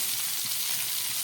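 Spiced pabda fish frying in oil in a pan, giving a steady close sizzle with soft crackle throughout and no voices.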